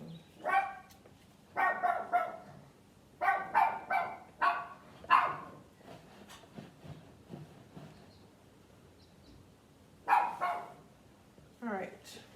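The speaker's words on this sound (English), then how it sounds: "there goes my dog." A dog barks repeatedly in short bursts, some clustered in quick pairs, with pauses between, at moderate distance.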